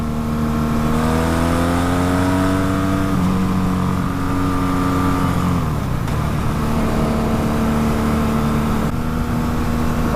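A Ford F-150 truck engine pulls steadily under acceleration in third gear while driving, its rising harmonic drone loud and continuous, pitch climbing then dropping briefly around a shift before settling into a steady hum.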